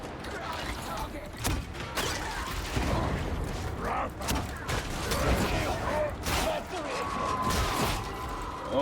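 Enemy gunners firing in Warhammer 40,000: Darktide, bursts of gunfire and sharp crashes in a chaotic melee, fairly close and continuous, with a player talking at times.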